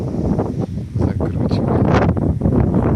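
Strong wind sweeping snow across open steppe in Khakassia, a steady, heavy roar buffeting the microphone up close with gusty surges and no clear voices.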